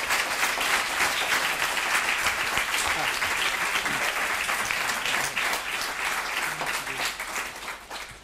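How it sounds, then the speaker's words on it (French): An audience at a lecture on learning facilitators applauds the speakers with dense, sustained clapping from a full room that tapers slightly toward the end. "Je vais vous demander de l'applaudir, nos orateurs, et de les remercier de leur exposé."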